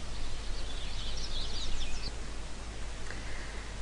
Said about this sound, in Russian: вот у нас закончилась мелодия и пошло пение птичек